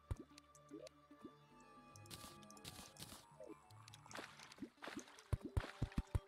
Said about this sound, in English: I'm gonna try to let all this water drain